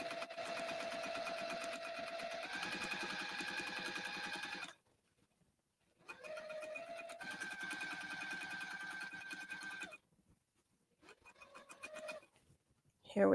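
A sewing machine stitches a drawstring bag in steady, close whirring runs that stop and restart several times, with short quiet pauses between bursts.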